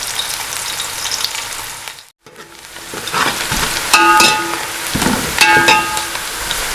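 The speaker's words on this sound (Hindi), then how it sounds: "प्याज को ब्राउन होने तक फ्राई करना है" Onions fry in a pan for a beef paya curry, a steady close sizzle broken by a brief silent gap, then louder crackling bursts from stirring.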